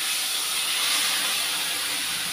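Onion, garlic, green chili, mustard paste and tomato frying together in a pan, producing a loud, continuous broadband sizzle that holds steady throughout without any voices.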